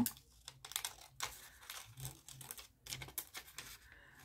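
Scissors snip around a paper butterfly in quick, irregular bursts of crisp cutting and rustling paper, close and fairly quiet, with short pauses between cuts.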